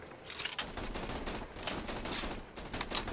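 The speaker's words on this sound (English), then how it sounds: "I hear bullets, but I don't see them" Gunfire rattles through a Borderlands 2 firefight, dense bursts of shots crackling steadily and fairly quietly over the game's ambient noise.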